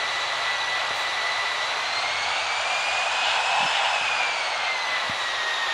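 Airliner jet engines in the Infinite Flight simulator on approach to landing, a loud steady roar with a high whine that slowly rises and falls, continuous and alone.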